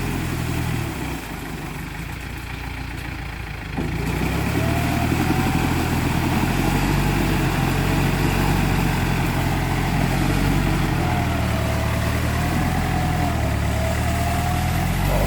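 A heavy Yanmar tractor engine idles in a muddy rice paddy with a steady, low rumble that grows slightly louder partway through and keeps running without letup.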